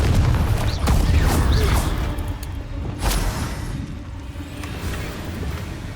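Confringo fire spell exploding in a cave in Hogwarts Legacy, a loud close blast with a low rumble that fades, followed by a second smaller burst.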